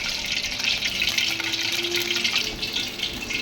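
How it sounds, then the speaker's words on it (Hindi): Water is sprinkled onto spiced, masala-coated potato strips being prepared for chips, giving a steady splashy hiss over about three seconds with no talking. "ये अब थोड़ा सा पानी का छींटा लगाया मैंने ताकि मसाला अच्छी तरह से आलूओं को लग जाए"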